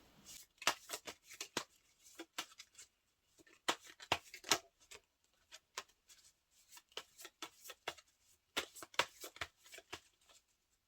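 Tarot cards shuffled and drawn close up, bursts of crisp riffling and snapping card slides in irregular clusters separated by short pauses, with no talk.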